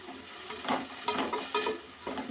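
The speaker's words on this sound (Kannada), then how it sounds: "ಇದು ಒಂದು 2 ನಿಮಿಷ ಈ ಥರ ಸ್ವಲ್ಪ ಫ್ರೈ ಆಗಲಿ" Tomatoes and onions frying in a pan for soya chunk gravy give off a soft, steady sizzle, with faint stirring scrapes rising in a few brief bursts.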